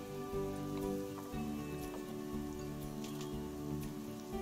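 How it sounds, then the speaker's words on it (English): Rain falls in the zoo-building game Planet Zoo, a soft, even patter of drops that runs continuously and fairly faintly with no talk over it. "I would like very much to get rid of this rain."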